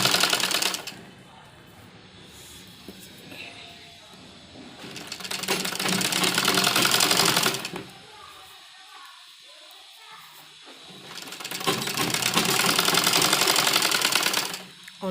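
Sewing machine stitching a kurti sewn from an old dupatta, running in two long loud bursts of rapid whirring with a quieter pause between them, close by.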